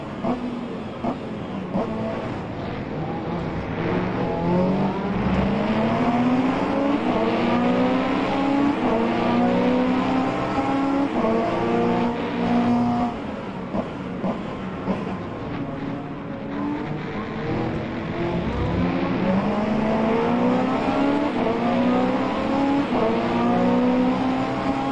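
A Ferrari 854 GT3 race car in the rFactor2 sim, lapping Donington Park GP Circuit, revs hard through repeated upshifts, each gear a rising engine whine that resets, loud and continuous with no talk.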